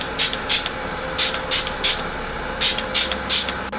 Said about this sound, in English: I'm going to spray some more Smashbox Photo Finish Primer Water.